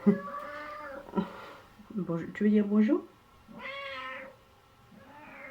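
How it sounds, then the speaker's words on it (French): A pet cat at home meows repeatedly in short, loud, drawn-out calls, with one sharper caterwaul in the middle, while someone speaks French between the meows. "J'ai mon chat qui veut dire bonjour"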